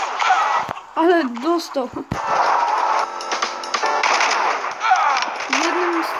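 Rapid gunfire from a video game shooting match, with sharp repeated shots crackling loudly and continuously while an excited player talks over them throughout.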